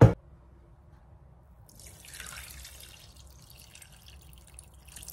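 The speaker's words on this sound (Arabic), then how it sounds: "هنا غادي نزيد الماء" Water poured into a Thermomix bowl while cooking a quince tagine, a soft trickling and dripping stream after a brief knock, quiet and steady with no talk.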